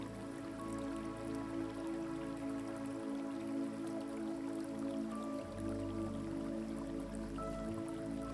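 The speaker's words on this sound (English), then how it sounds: "You hear the distant sound of water flowing like a lullaby through the" A small stream flows in the distance at night, with soft trickling and dripping water mixed under a sustained, droning ambient music bed.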